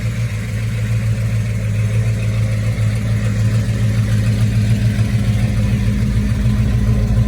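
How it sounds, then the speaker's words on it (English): A 1969 Plymouth Road Runner engine with a slight exhaust leak idles with a steady low rumble and faint rhythmic puffing from the exhaust, running evenly and close by with no talking. "It may have the slightest of an exhaust leak."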